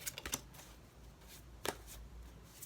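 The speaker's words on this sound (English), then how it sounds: "My shuffling skills like that is not very good" Tarot cards are shuffled close by in faint, quick riffling bursts: a cluster of soft flutters at the start, a pause, then another short riffle and a few light taps.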